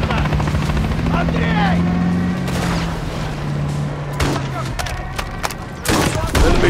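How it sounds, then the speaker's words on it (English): A helicopter in the Call of Duty: Modern Warfare 3 video game gives a loud, steady rotor drone. Bursts of gunfire and voices cut across it, growing sharper toward the end. "Enemy helo's going down."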